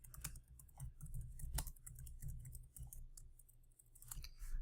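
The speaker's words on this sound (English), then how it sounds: "Here we can type in the question" Rapid clicking keystrokes on a computer keyboard as a question is typed, a steady close run of taps with brief pauses and no talking.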